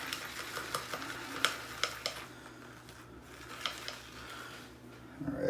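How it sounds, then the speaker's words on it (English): A wet shaving brush lathers pine-scented Christmas shave soap in a tub, giving a soft, close swishing and squelching with a few sharper clicks of bristles against the container rim, steady throughout. "I'm just going to lather from the soap tub here."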